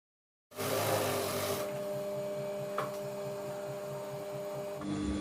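Sewing machine stitching a top, a steady close mechanical whir with a fast regular pulsing hum that runs continuously for several seconds before easing off.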